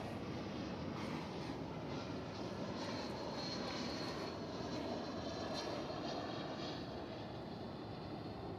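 American Airlines plane arriving at Dallas/Fort Worth Airport, a steady, loud jet engine roar that holds constant throughout at moderate distance, with no voices.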